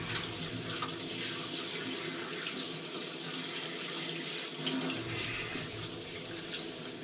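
Water runs steadily from a tap into a bath while a baby is rinsed, a continuous close splashing rush with no pauses and small shifts in tone.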